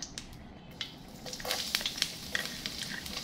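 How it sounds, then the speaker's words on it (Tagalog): Garlic frying in oil in a hot wok, a soft sizzle broken by sharp crackles and stirring scrapes, close and fairly quiet, with no talk. "Dahil mainit na po yung ating kawali, maglalagay na po tayo ng mantika. Ilalagay na natin yung ating bawang"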